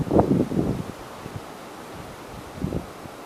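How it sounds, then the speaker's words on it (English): Strong gusting wind outdoors in Pennsylvania on a warm day, buffeting the microphone in a couple of loud rumbling bursts at the start and again near the end, with steadier low blowing between. "the wind's blowing like, I don't know, 30 mile an hour or something probably"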